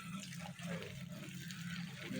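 Water gushes steadily from a pipe watering a village garden in Punjab, a faint, continuous rushing flow with no talk over it.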